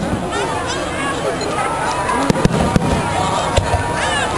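Fireworks at Orchard Beach in the Bronx crackle and boom over a constant crowd murmur outdoors, with several sharp bursts standing out near the end while people talk nearby.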